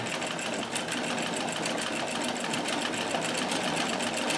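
A Riccar 570 sewing machine with a walking foot runs continuously over stretch test fabric, giving an even, close mechanical whir with a fast regular stitching pulse throughout.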